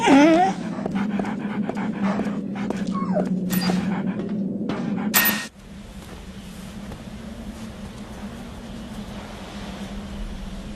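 A wolf dog in the video game Metal Gear Solid Twin Snakes pants and lets out a few whimpers over a steady low game ambience, the breathing loud and close before the sound drops to a quieter background hum.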